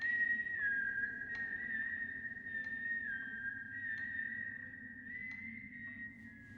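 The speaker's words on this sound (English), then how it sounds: "someone is whistling the folk song "This Old Man."" Someone whistles the folk tune "This Old Man" in the middle of the night, a thin, fairly steady whistled line that holds near one pitch with small steps. Faint and alone over a low, dull background hum.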